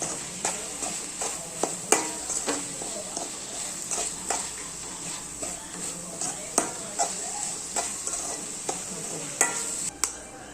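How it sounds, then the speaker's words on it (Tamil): Spices with chicken 65 powder, garam masala, Kashmiri chilli powder and salt are sautéed for kothu chapati, a soft sizzle under repeated sharp scraping and tapping of a utensil against the pan, close and regular throughout. "கொஞ்சம் போட்டு வதக்கி விடலாம்."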